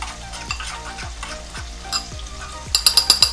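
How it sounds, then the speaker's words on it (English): Chicken sizzles steadily in a pan with honey, whole grain mustard and Dijon, a dense frying hiss broken by regular stirring scrapes and a quicker run of sharp clinks near the end. "So the chicken is starting to sizzle"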